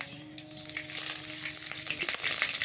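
Mustard hits a hot garlic tempering in oil and erupts into a loud, steady sizzle that builds and stays dense, with faint stirring clicks underneath.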